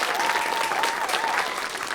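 An audience at a school quiz-show duel breaks into sustained applause, a dense, even roar of many hands with some crowd noise and a faint tonal whine running underneath.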